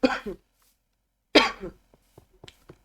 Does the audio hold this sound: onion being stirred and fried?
no